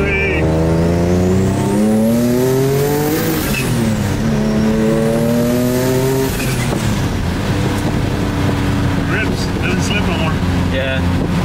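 An Infinity G37 with a single turbo accelerates hard and loud, its engine note rising through several gear changes against wind buffeting. Voices are heard briefly.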